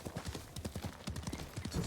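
Horse hooves in the Ghost of Tsushima video game, a quick steady clip-clop of several hoofbeats at a trot, fairly close and moderately quiet.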